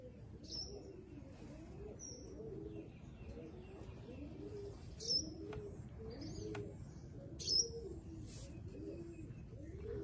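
Several pigeons coo in steady, repeated low rolling calls, faint, with a few sharp high chirps from other birds in between and no clear wing flapping.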